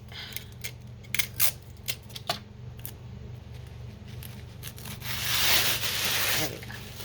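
Napkins and book pages being torn by hand, heard up close as sharp papery rips and crinkles, ending in a longer, louder rasping tear.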